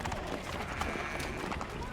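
A horse gallops in the Assassin's Creed 3 video game, its quick clip-clop hoofbeats rapid and continuous, mixed in with game sounds.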